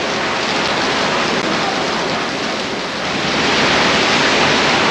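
Steady rain falling in Chiang Mai, a dense, loud, unbroken hiss that holds evenly throughout with no voices.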